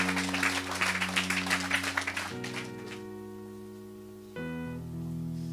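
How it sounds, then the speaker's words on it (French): A church congregation claps hands together in brisk rhythmic bursts for a couple of seconds, then fades as sustained keyboard tones take over. "Clap your hands to Jesus."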